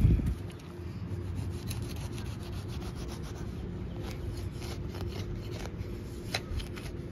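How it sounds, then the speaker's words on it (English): Digging and scraping in park soil to recover a metal detecting target, a steady close gritty rubbing and crunching with scattered sharper scrapes and ticks throughout. "Figure I'd live dig it for you."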